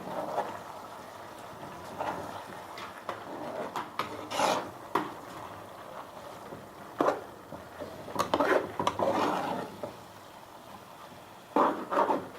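Food being stirred in a pot during home cooking, with intermittent scraping and rubbing strokes coming in short bursts and pauses, close and fairly loud, without talk.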